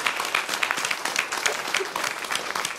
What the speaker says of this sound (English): I'd like to give a round of applause to all of those people who are not here